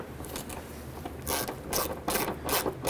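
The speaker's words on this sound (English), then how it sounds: "We're going to use our 13mm shallow socket with a short extension," A 13mm shallow socket on a short-extension ratchet running down a liftgate ball stud on a 1999-2004 Jeep Grand Cherokee, with quick bursts of close, loud clicking that come in four or five strokes, and no talking.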